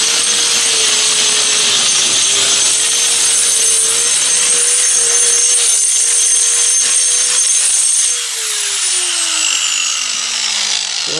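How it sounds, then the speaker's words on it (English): Small grinder worked around the patched holes of a foundation under repair, giving a loud, continuous high-pitched whine up close that holds steady, then drops in pitch and eases slightly near the end as the load changes. "I get this little grinder and I just go around."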